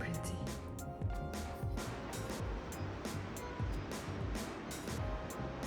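Ocean surf rolls in beyond a Cape Town penthouse, a steady wash of breaking waves heard at a distance, while someone talks over it.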